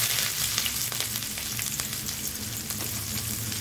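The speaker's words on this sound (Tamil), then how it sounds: "ஆயில் சூடேறிச்சு, கடுகு போட்டுக்கலாம். கடுகு நல்லா பொறிச்சு வரட்டங்க." Hot oil sizzles steadily as mustard seeds splutter in a pan, with a dense, close hiss broken by sharp little pops throughout.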